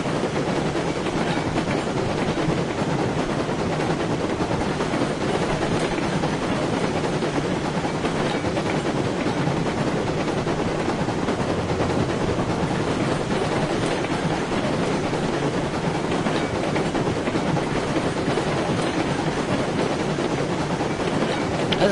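A locomotive hauls a train in the Railroad Online video game on the Mesa Plains map, a steady, loud rumbling roll with faint rhythmic clatter continuing unbroken throughout.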